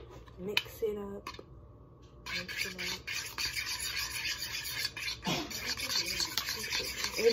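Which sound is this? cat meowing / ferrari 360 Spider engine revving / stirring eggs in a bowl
stirring eggs in a bowl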